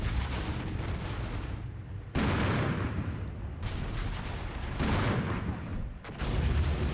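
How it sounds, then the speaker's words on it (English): An artillery barrage in the video game Armored Brigade II: a series of loud, booming blasts and rumbling detonations, with several heavy impacts landing in quick succession. "Enemy is launching all arty on this position"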